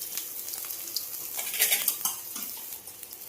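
Soy chunks dropped into hot oil in a pan, with a short burst of sizzling mixed with clinks and scrapes of a utensil against the metal, fairly close and moderate in volume.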